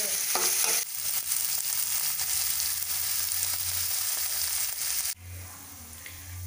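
Ginger garlic paste, tomato and salt sautéed in a hot pan for egg gothsu, a loud steady sizzle that drops away abruptly twice as the pan shifts, with faint stirring scrapes and no talking.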